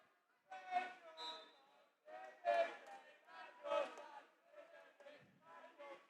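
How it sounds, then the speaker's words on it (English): University crowd at a Sheffield Varsity water polo match jeering a player, a faint, distant wave of booing and shouting voices that rises and falls in several swells. "The Uni crowd letting them know what they think of him."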